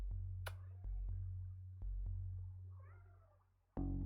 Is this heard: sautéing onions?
no